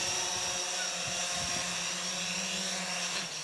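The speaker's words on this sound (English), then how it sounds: "The drone is coming and it's gonna land right in front of us." Typhoon H drone flying in to land nearby, a steady high-pitched whining buzz of its rotors sustained throughout at close range, with faint voices under it.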